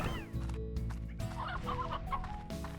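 Chickens clucking in the video game Slime Rancher, several short clucks and squawks in irregular bursts, fairly quiet and close, with no talk over them.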